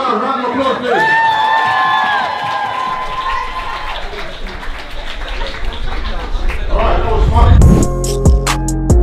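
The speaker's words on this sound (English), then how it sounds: "can we give Larry and Arna a round of applause" Studio audience at a live birthday special show gives Larry and Arna a round of applause, with crowd noise and cheering building under voices and whistle-like tones, then rising to loud clapping before music takes over.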